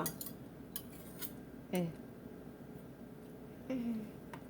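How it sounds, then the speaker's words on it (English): A spoon scrapes peanut butter from a container in a few brief, squeaky strokes, one near the start and one near the end, with faint clinks over a quiet kitchen background. "So I'm getting all the peanut butter that I can get from this container"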